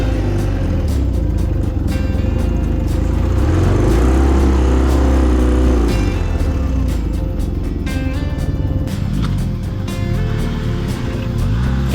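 BMW adventure motorcycles, an R80G/S, R1200GS and R1250GS, slipping through a muddy hole on a fire trail: steady, loud engine drone with low rumbling and shifting throttle throughout, no talk.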